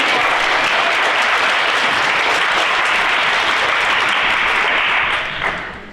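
An audience at a children's business fair claps in a dense, sustained burst of applause that holds steady for several seconds before tapering off at the end.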